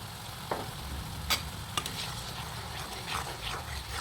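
Ginger, garlic and onion paste with spices being stirred and sautéed in a pan for a Bengali hilsa curry with potato and eggplant, a steady soft sizzle with occasional scraping clinks of the spoon, close by and without talk.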